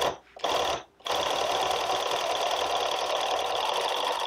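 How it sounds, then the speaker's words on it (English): An industrial 3-thread overlock sewing machine runs steadily on stretchy fabric, giving a loud, continuous mechanical whir after two brief pauses near the start. "I'm back to the 3-thread right now, and I'm gonna start sewing."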